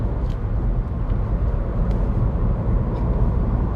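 A 2020 Ford Puma ST-Line X small SUV driving along a twisty road, its engine and road noise a steady, loud rumble throughout, with no voices.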